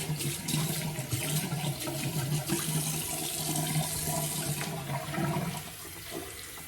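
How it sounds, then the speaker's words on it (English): A tap runs hot water into a sink basin in a straight-razor shaving setup. The splashing, hissing stream is steady and close, then eases slightly toward the end, with no voices. "let's run up a basin of hot water again."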